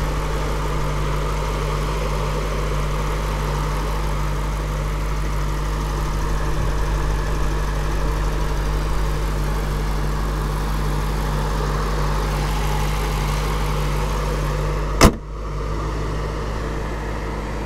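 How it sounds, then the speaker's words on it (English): A stock 2008 Lexus IS F holds a steady, smooth idle with a deep, even engine hum close by. A single sharp click near the end cuts the sound. "Engine has a really healthy idle."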